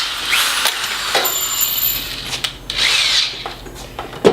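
A power drill bores through a metal drawer while a coal forge is built from junk, whining in several short revving bursts with brief pauses and a sharp final spike.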